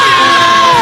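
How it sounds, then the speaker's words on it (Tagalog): Live band concert audience at a festival in Leyte, Philippines, letting out a loud, close burst of yelling, whooping and cheering that fills the moment. "Isang hiyawan mga virgin!"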